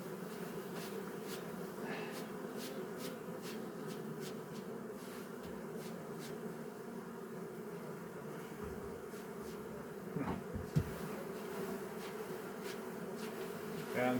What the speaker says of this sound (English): bees are trying to come back on the drone frame